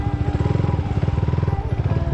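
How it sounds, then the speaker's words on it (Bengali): A motorcycle being ridden, its engine close and steady with a fast throbbing pulse that holds even for the whole moment. "আমার বাইকটা সুমন চালাচ্ছে"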